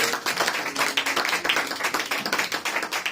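A church congregation claps steadily together at a French-language evangelistic service, a close, continuous rhythmic patter that fills the room.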